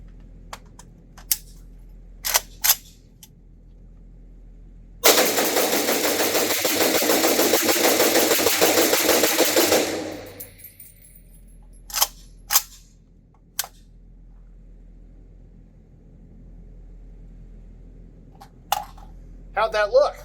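Suppressed Meridian Defense AK rifle emptying a full magazine at a range, a continuous rapid string of muffled shots lasting about five seconds, with scattered sharp clicks before and after.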